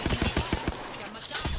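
Rapid bursts of gunfire from the battle royale game Apex Legends, a rattling volley of close shots in quick succession with a louder crack near the end.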